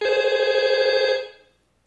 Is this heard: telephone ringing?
yes